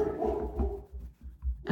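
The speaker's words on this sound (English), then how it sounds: "I hear Nash barking in the background." Dog Nash barks in the background, a series of muffled, low thumping barks at an even rhythm, distant and subdued, with a brief sharper sound at the end.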